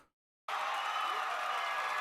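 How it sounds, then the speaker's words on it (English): A crowd applauding, a sudden swell of steady, dense clapping that starts after a moment of silence and holds at an even level to the end. "As the crowd applauds like mindless apes."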